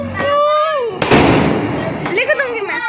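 Diwali fireworks during a family celebration: a loud crackling burst of firecrackers takes over partway through and fizzles on, with voices talking over it before and after.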